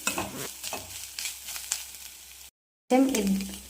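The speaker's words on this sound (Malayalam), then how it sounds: "നാളികേരം നന്നായിട്ട് ഗോൾഡൻ ഒരു ബ്രൗൺ കളർ ആവുന്ന വരെ ഇളക്കിക്കൊണ്ടിരിക്കുക." Grated coconut fries while being stirred toward golden brown, with scraping strokes over a light sizzle, a sudden brief silence, and then a burst of louder frying and stirring.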